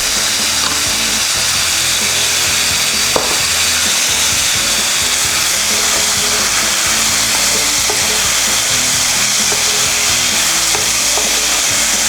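Beans and chopped vegetables fry in hot oil, a dense, steady sizzle filling the whole stretch, punctuated by faint scrapes and clicks of stirring.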